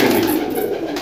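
Shahjahanpuri pigeons, blue birds kept as high flyers, cooing close by in a soft continuous murmuring burble, steady and fairly loud.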